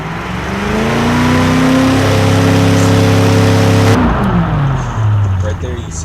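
Car engine revving in the video game Automation, a loud steady buzzing drone with layered tones that holds high, then drops abruptly and fades lower, close and continuous with no voices.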